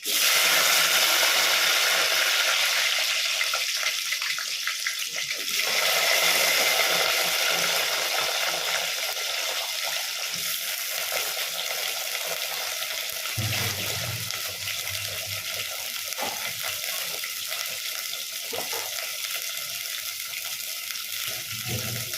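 Eggplant pieces fry in hot oil for a brinjal tamarind curry, giving a broad, steady hiss and crackle with occasional stirring scrapes. The sound is loudest at first and settles to a softer sizzle.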